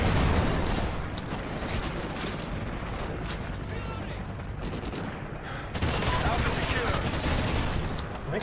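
Rapid automatic gunfire rattles continuously in the video game Strikezone, a dense fusillade of shots that dips slightly midway and then surges back louder, with no voices heard over it.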